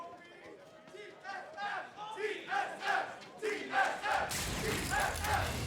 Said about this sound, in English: You can hear the roars of the crowd